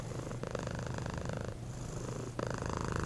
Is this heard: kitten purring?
yes